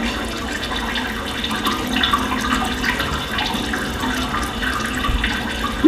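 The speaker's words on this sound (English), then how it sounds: "you can hear this water running" Running water pours in a steady, unbroken wash for several seconds during a live demonstration, close and fairly loud, with a brief louder splash near the end.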